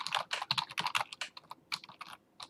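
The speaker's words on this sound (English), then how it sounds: "This keyboard doesn't keep up with me." Rapid, uneven bursts of typing on a computer keyboard, close and fairly quiet, with clustered keystrokes and brief pauses between runs.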